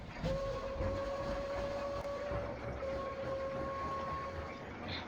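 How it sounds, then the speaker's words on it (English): A long, steady steam engine whistle sounds at a distance, one sustained tone held for several seconds over rumbling background noise. "a certain whistle alerted the engines"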